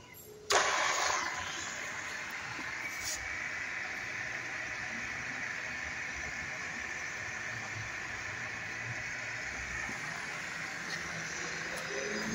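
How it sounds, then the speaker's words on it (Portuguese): A Sanches Blanes FB25 geared pillar drill press switches on with a sudden onset, then runs in a steady, even motor and gear whine close by, holding constant for over ten seconds. "Vou dar uma ligadinha para a gente ver o funcionamento."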